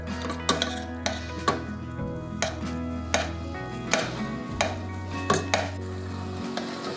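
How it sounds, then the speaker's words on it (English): Nigerian pepper sauce being stirred in a pot, a spoon knocking and scraping against the metal in a steady rhythm of close, sharp clinks over a faint low hum. "So I'm just going to mix this a bit more."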